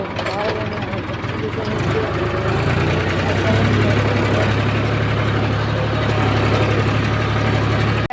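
A tractor engine idling close by with a steady, low, continuous rumble that holds throughout, while a person talks over it.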